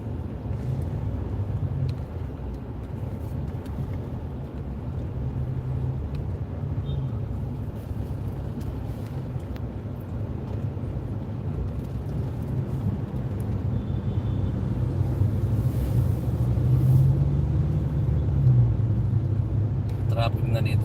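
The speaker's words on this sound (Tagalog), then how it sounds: "Traffic na dito sa bandang kaliwa." Steady low rumble of road traffic with cars and large trucks passing, a continuous broadband drone that swells louder toward the end, with no clear talk over it.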